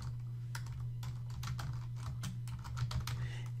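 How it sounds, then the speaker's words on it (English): Rapid typing on a computer keyboard, a steady run of close, crisp key clicks over a low electrical hum, with no voices. "So what we're going to do is we're going to type in booth rent."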